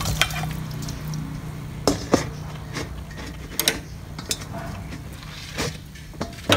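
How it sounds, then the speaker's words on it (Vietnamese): Beef being mixed with seasoning in a basin, with scattered soft scraping and clinking knocks of hands and utensils against the container over a low background hum, close by and without talking. "Mình cho vô thau mình trộn."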